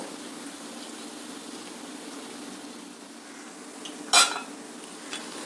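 An avarekalu (hyacinth bean) snack frying in a pan: a soft, steady sizzle runs throughout, broken once by a sharp utensil clink against the pan and a fainter tap after it, with no talking.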